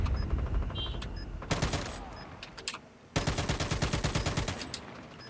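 Gunfire in Call of Duty Black Ops Cold War, with rapid automatic bursts close by, a long rattling volley midway and another steady burst of rhythmic shots toward the end.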